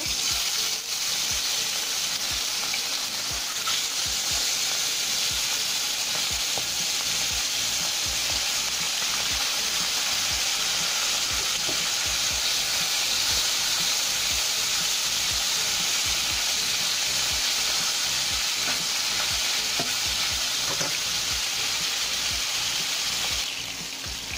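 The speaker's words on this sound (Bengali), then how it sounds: "এখন আমি মাছগুলো" Small sarpunti fish, sprinkled with salt, sizzle in hot oil in a wok, a loud, steady, dense frying hiss that runs unbroken throughout with faint stirring ticks underneath.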